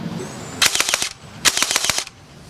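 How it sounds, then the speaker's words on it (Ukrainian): Two rapid bursts of automatic gunfire, each a quick string of sharp cracking shots, loud and close with a short pause between them. "Також у нас є ефект, як щоб були вистріли чутні."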